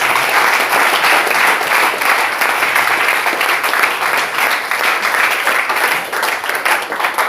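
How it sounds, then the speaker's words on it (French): Church congregation at a worship service applauding, a loud, sustained, dense clapping from a large crowd that continues without pause for several seconds. "Applaudissons pour les apôtres."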